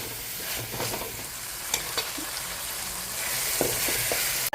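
Onions browning for a Kerala-style chicken curry sizzle in a pan, with a spatula scraping and stirring through the steady frying hiss, near and without voices.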